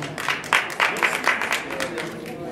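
An audience applauds dancers at a red-carpet event with a burst of hand clapping, the claps coming in loose rhythmic pulses as a voice talks over them.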